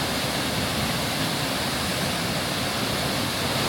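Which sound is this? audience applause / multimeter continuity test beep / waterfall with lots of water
waterfall with lots of water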